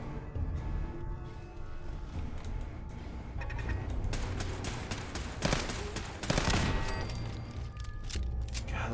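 Burst rifle fire in Fallout 4 crackles in dense, repeated volleys across the stretch, loud and close, with sharper peaks near the middle and no talk over it.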